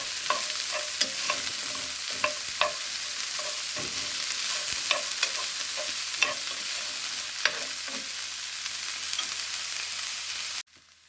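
Onions fry in a pan for Gongura pumpkin pulusu, a steady sizzle throughout with repeated scraping and clinking of a spoon as they are stirred, close up with no talking, cutting off near the end.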